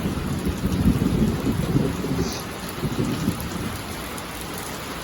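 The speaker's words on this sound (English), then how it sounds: "It's cool out here right now with this little rain." Steady rain pours down with a constant hiss, joined by low rumbling that suggests distant thunder, continuous throughout with no voices.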